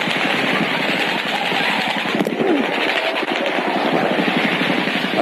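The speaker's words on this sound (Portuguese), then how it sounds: "Mas logo em seguida, os tiros recomeçaram." Gunfire from the Las Vegas shooting rattles in fast continuous bursts, dense and distant-sounding, under a constant wash of crowd noise and ambient roar.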